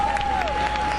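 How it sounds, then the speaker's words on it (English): Audience at a Veterans Day ceremony applauds, a brief burst of steady clapping from a crowd with a faint voice underneath. "Please give them a round of applause for all their support and all of their efforts."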